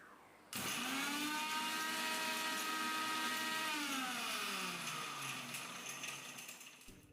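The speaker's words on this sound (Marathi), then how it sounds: "थंड झाल्यानंतरच मिक्सरला फिरवून घेऊयात" A kitchen mixer grinder whirs loudly and steadily, grinding roasted spices for lemon pickle masala, its motor pitch holding high then sagging slightly as it winds down near the end.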